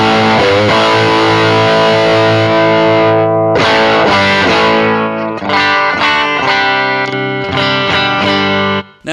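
Loud, heavily distorted electric guitar chords through a cranked Marshall Origin 20C tube combo, 20 watts into a 10-inch speaker, with a thick, saturated amp tone, struck in bursts and left ringing, with no talking.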